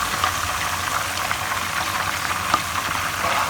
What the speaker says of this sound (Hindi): और इसे हल्का सा करेंगे फ्राई